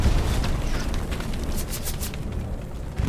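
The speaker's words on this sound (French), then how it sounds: "Là, il y a un bombe qui arrive." A bomb explosion in the World War II shooter Hell Let Loose, a loud, sustained rumbling blast with crackling bursts that fills the whole clip, close and heavy, with no voices over it.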